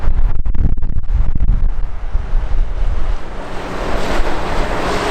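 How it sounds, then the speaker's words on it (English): Loud gusting wind buffets the microphone continuously at London Heathrow airport, a roaring rush with rumbling low thuds in the first seconds and no speech. "it's getting a little bit windy"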